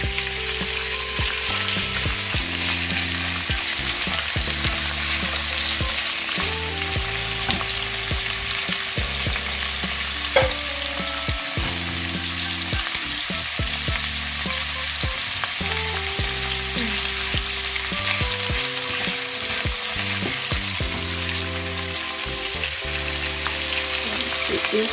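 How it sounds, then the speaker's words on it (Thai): Steady, loud sizzling of fresh shrimp frying in a hot pan, with occasional stirring clatter throughout and no talking. "กระทะร้อนแล้วใส่กุ้ง"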